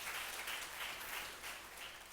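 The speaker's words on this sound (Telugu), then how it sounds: "గట్టిగా చప్పట్లు కొడదాం." Audience clapping steadily through a church Sunday service, a dense, even patter of many hands sustained at a moderate distance with no voices over it.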